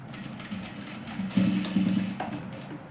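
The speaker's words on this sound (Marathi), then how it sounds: "ही शोल्डरची शिलाई शिवून घेतली" Short burst of a sewing machine running a shoulder seam on a katori blouse, a close low mechanical whir that rises briefly and then trails off, with no voices.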